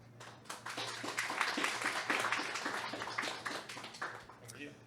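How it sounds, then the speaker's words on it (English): An audience at an academic conference talk on prediction markets claps in a round of applause, a dense spread of individual hand claps that builds and then fades over about five seconds. "Let's give him a round of applause."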